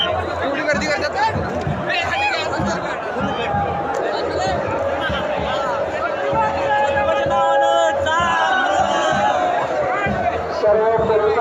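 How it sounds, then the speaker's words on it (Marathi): Dense crowd of pilgrims at the Jyotiba temple fair in Kolhapur on Chaitra Purnima, a steady loud babble of many voices and shouts filling the air continuously throughout. "गर्दी खूप वाढलेली आहे जाम गर्दी आहे"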